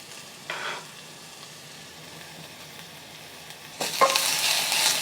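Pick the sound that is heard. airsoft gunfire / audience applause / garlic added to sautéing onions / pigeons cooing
garlic added to sautéing onions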